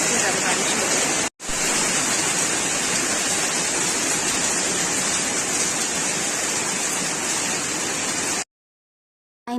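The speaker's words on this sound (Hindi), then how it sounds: "मैं दिखाता हूँ कितनी ज़्यादा बारिश हो रही है" Heavy rain pouring down in a dense, steady, loud hiss that runs almost unbroken, with one brief cut early on and an abrupt stop near the end.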